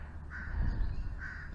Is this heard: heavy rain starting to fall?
no